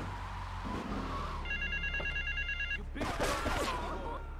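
A payphone rings in the video game GTA 3 Remastered, a steady trilling electronic ring lasting over a second amid loud traffic and city noise, followed by a burst of voices.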